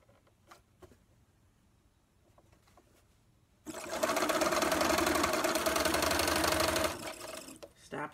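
A sewing machine stitches together pieces of fabric in one steady, loud mechanical run of about three seconds, with quieter handling noises before and after.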